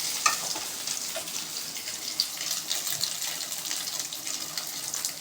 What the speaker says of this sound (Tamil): இது மாதிரி நல்லா கிளறி விட்டுக்கலாம்